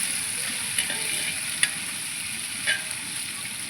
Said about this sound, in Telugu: ఇదిగోండి అల్లం వెల్లుల్లి పేస్ట్ వేసాం కొంచెం, అలాగే పచ్చి బిర్యానీ ఆకు వేసాం అనమాట.